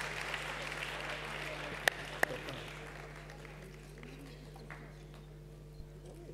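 Applause from the audience at the 2015 Cannes Un Certain Regard closing ceremony, a moderate clapping crowd that gradually fades out, with a couple of sharp clicks and low hall hum.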